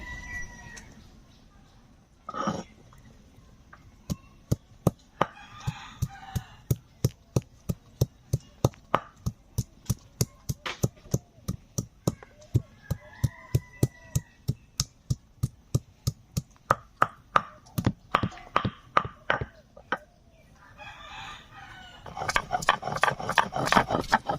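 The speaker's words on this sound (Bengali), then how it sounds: "আর এখন আমি কিছু মশলা বেটে নেব।" Cumin and coriander are ground on a grinding stone, making a long run of sharp, evenly spaced clacks at a quick steady rhythm, close and fairly loud against a quiet background.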